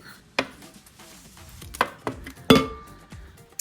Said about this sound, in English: Let's put our tomatoes in the bowl.